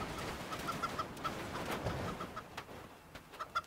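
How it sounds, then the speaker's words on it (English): Short repeated clucks from a chicken in the crash game Turbo Dismount, a string of quick calls at moderate level over a busy background of game noise and clatter. "The chicken."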